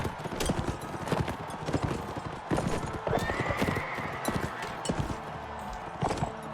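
Horses gallop in the video game Mount and Blade Warband, a dense, busy clatter of hooves with neighs in a battle, loud and continuous across the scene.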